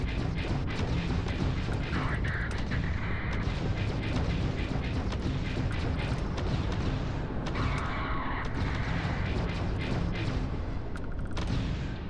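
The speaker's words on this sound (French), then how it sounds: "Ah, les canons automatiques, ils font mal." Automatic cannons fire in a sustained, dense barrage during space combat in Starfield, a loud continuous roar of rapid booms and mechanical clatter with a voice faintly mixed in.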